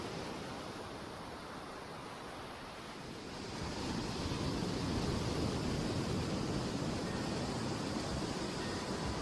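Surf rolls onto a beach where fishermen land small round wicker basket boats, making a steady broadband roar that swells louder partway through, with no voices.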